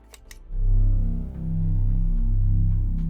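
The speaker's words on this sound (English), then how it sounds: "I added a humming sound to solar panels" Steady low electrical hum from solar panels in a survival video game, swelling in after a couple of faint clicks and holding at a constant drone with a slight dip midway.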